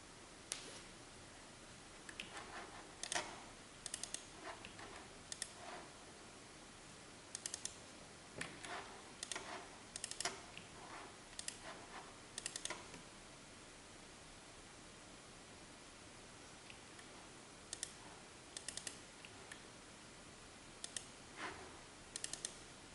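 Computer keyboard typing in a quiet room while entering a resistor value in circuit simulation software: irregular bursts of close, crisp key clicks spread across the stretch, with pauses between groups and a faint hiss underneath.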